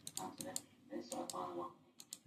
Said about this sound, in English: I guess I'll just do clicking of the buttons so you can hear.